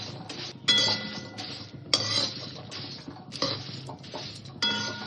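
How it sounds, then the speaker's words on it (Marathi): Green cardamom pods dry-roasting in a pan rattle and clink against the metal, coming in repeated bursts of scraping and tumbling with short pauses between stirs, close and fairly loud. "तर आता ह्याला आपण असं भाजून घेऊया ही इलायची भाजून घेऊ सगळी"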